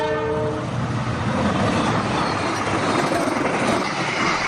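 A train rolls loudly and steadily past an unguarded rail crossing in a village in Karanganyar, Central Java. A horn blast sounds at the start over a dense, continuous rumble of wheels and cars, close by.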